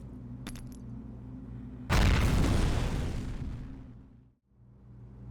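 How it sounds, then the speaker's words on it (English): A sudden, loud N6A3 fragmentation grenade blast in the F.E.A.R. shooter erupts over a low steady hum, a broadband boom that rumbles and decays for about two seconds before cutting out, with no voices present. "the N6A3 fragmentation grenade"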